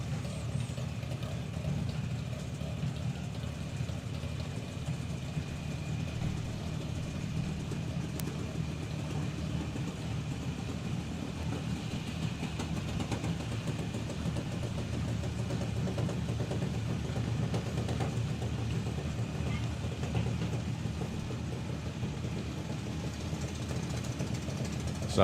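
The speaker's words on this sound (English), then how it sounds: "So Ada just bringing her junior dragster forward." A junior dragster engine idles at a drag racing event, a steady low rumble held throughout with faint distant crowd and track noise behind it.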